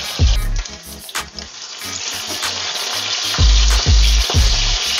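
Pork belly sizzling and crackling loudly as it pan fries, with close bursts of spattering fat and occasional scraping as the pieces are turned.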